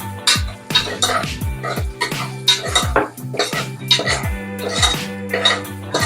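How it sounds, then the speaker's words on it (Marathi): A spoon scraping and clanking against a metal pot while turmeric is stirred into mutton keema, a steady run of loud, ringing metallic knocks and scrapes close by. "मिक्स करून घेऊ."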